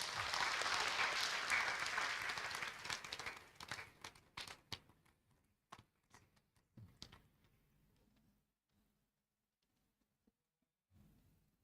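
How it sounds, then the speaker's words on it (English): Conference audience applause after a plenary session, a dense, sustained round of clapping that thins into scattered claps and dies away to near silence by the end. "We give them another big round of applause."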